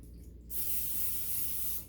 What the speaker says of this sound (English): I'm gonna spray all around, and then we're just gonna put her in the bread pan.